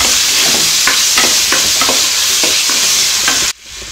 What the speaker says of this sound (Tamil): இப்போ நம்ம சின்ன வெங்காயம் சேர்த்து நல்லா வதக்கிடலாம்.